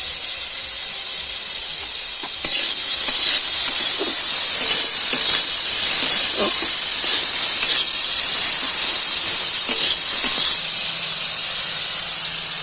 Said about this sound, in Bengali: সবজিটা কিছুটা ভেজে এসেছে